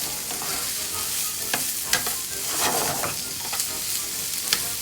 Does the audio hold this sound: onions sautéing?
yes